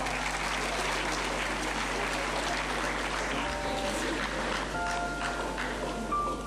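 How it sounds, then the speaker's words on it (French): An audience applauds judo champions, a sustained, fairly soft roll of clapping with voices faintly underneath. "On les applaudit très fort."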